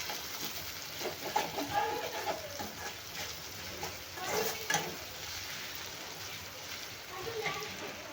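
Tomato sautés in oil for a spicy vegetable curry, producing a faint steady sizzle with occasional stirring sounds and brief voice-like noises over it.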